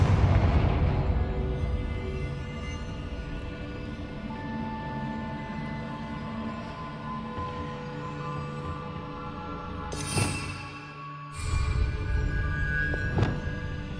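Hogwarts Legacy game combat with the Confringo fire spell sets off a deep booming blast that rumbles and decays over several seconds, followed by sharp cracks and further impacts, no voices.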